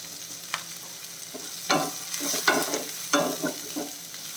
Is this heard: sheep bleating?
no